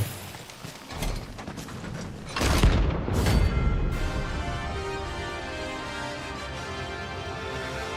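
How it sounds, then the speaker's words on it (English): Big cannon firing in the Final Fantasy XVI video game: a heavy booming blast with mechanical clanking, followed by a long fading rumble. "It's a big cannon."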